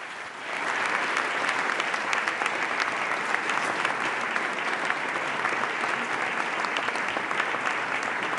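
A large audience at a formal diplomatic gathering breaks into sustained applause that swells within the first half second, then holds as a thick, steady wash of clapping without speech.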